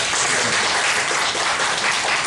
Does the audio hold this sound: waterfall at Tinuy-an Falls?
no